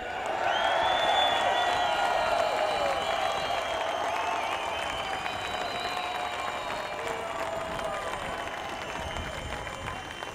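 A large Verizon workers' union rally crowd of thousands cheers, whoops and applauds in a sustained, dense roar that holds steady and loud, then eases off slightly.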